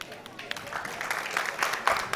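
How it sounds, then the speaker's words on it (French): An audience applauds a sponsor partner at a televised school event, a steady wash of clapping that swells and stays fairly loud throughout, with voices mixed in underneath. "On va les applaudir"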